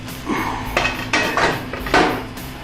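A metal water heater converted into a barbecue is flipped over, making a close series of loud metallic clanks and thuds that come in irregular bursts, with no talking.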